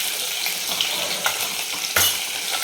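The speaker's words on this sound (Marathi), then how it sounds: "छान गुलाबी कलरवर सोनेरी होईपर्यंत आपल्याला फ्राय करायचं आहे." Five or six cloves of crushed garlic and a half-inch piece of ginger fry in hot oil for a tadka, a steady close crackling sizzle broken by a few sharper spits and pops.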